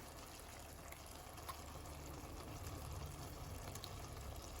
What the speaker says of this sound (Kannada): ಮಿಕ್ಸಿ ಜಾರಿಗೆ ಸ್ವಲ್ಪ ನೀರನ್ನು ಹಾಕಿ ಇದನ್ನು ಸೇರಿಸ್ಕೊಳ್ತೇನೆ.